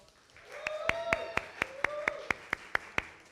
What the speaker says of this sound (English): Another round of applause for Lorenzo.